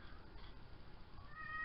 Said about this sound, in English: Again, apologize for the cat.